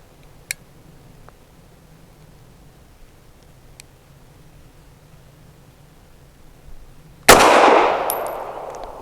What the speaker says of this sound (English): First shot in double action.